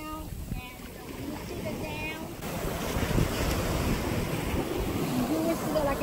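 Surf washing up on a sandy beach during surf fishing, a steady broad rush of breaking waves with wind buffeting the microphone, while people talk over it.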